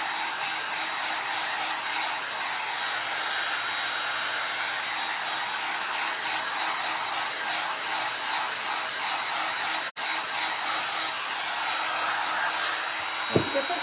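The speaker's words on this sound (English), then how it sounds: "where I wet it, I'm gonna hit it with a little bit of heat and hopefully tighten that up a little" Heat gun blowing on wet gallery-wrap canvas to tighten it, a steady loud whooshing hum held throughout, briefly dipping once and ending with a small click.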